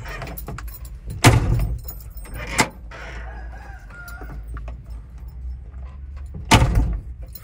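A truck cab door is opened and shut during maintenance work, with two loud thuds several seconds apart. Rooster crowing and faint background noise sit between them, and nobody speaks.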